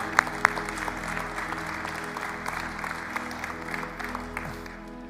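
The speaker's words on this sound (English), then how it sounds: "Can we give God a hand clap of praise this morning?" Church congregation at a Sunday morning service gives a hand clap of praise, a steady spread of clapping from a roomful of people over a constant low hum, with a couple of sharp close claps near the start.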